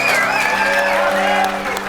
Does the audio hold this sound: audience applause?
yes